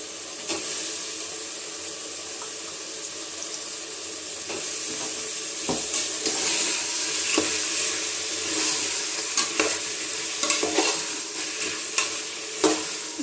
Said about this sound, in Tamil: கொஞ்ச நேரம் எண்ணெயிலே ஃப்ரை ஆகும்